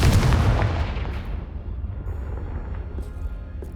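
A loud blast from the Confringo blasting spell in a PlayStation video game hits hard at once, then rumbles away over the next few seconds with no voices.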